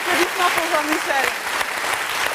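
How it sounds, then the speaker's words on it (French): A television studio audience applauds in a steady wash of clapping, with voices calling out and talking over the sound throughout. "applaudissements pour Jean-Michel"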